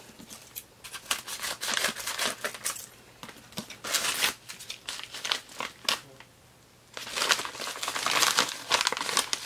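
Packaging around a mailed book parcel is opened and cut, giving bursts of close crinkling plastic and paper with scissor snips, in uneven clusters separated by short pauses.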